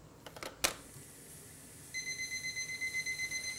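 A kitchen timer goes off during pressure-cooking of white beans, a rapid electronic beeping pulsing in quick regular bursts after a few soft knocks and clicks nearby.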